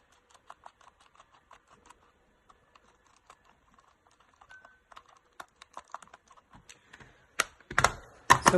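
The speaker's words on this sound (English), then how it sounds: "let's start up by removing the 6 Phillips screws." Six Phillips screws being backed out of a Dualshock controller's bottom shell, heard as sparse small clicks and ticks that quicken into a louder cluster of clacks near the end, close up with no talking.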